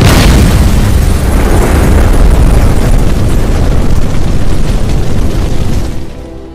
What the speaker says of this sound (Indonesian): Robert pun meledakkan tempat itu.